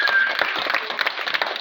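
Applause from a crowd at a school sports event in Dhanbari, Tangail, Bangladesh, cheering the winning fifth-grade boys; a steady, fairly loud patter of many hands clapping throughout, with faint voices mixed in.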